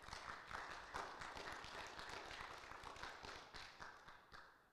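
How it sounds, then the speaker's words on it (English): A forum audience claps in a dense, continuous round of applause, many hands overlapping in a steady patter that holds at a fairly low level for the whole stretch. "That was a round of applause."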